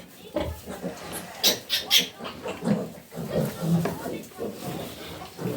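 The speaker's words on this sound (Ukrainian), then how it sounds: "Перший, перший буде сімейний обід зараз поросяток." Newborn piglets grunting and snuffling at close range as they feed from the sow just after farrowing, amid soft shuffling and rustling, with people talking quietly over the animal noises.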